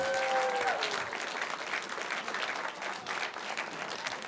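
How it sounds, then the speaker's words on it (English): An audience at a live skincare product event breaks into a round of applause, dense steady clapping from a crowd that carries through the whole stretch without talk. "Let's give them a round of applause."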